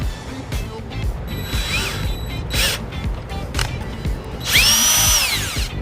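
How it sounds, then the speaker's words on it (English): A drill bores straight through the center of a trailer wiring plug on a 2019 Honda HR-V, running in several bursts with rising whine between pauses, close and fairly loud. "we're just going to drill a hole straight through the center of that plug."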